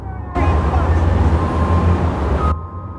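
A big Kenworth or Peterbilt truck loading a barge at Jamaica Pre-Mix & Aggregates yard, its loud engine rumbling close and steady for a couple of seconds with a faint tonal beep over it.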